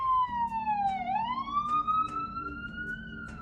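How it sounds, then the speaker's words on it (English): An ambulance siren wails steadily nearby, its tone dipping and then rising again as it passes, with faint traffic rumble and scattered clicks underneath. "Ambulance is coming."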